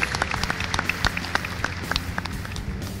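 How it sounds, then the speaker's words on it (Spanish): A small group in a board meeting session applauds the recipient of donations, a sick boy. The claps are scattered and uneven, moderately close and fairly soft. "Un aplauso y que Dios lo recupere prontamente."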